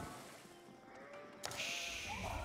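Sheep bleating in the video game Age of Empires IV, a short faint bleat rising late in the clip over a quiet game background, after a brief sharp impact.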